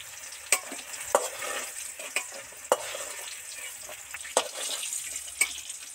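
Okra deep-frying in hot oil in a Bengali kitchen, a steady close sizzle with scattered sharp clinks of a utensil lifting pieces out, no voices.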